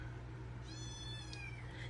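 Cat named Miss Kitty meowing once, a drawn-out, rising-then-falling meow heard close by but soft, set against a quiet indoor background with no speech.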